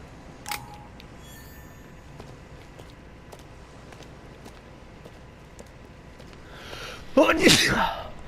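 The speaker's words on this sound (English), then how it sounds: "My first sneeze on YouTube." A single loud sneeze erupts near the end after a quiet stretch with a few faint clicks.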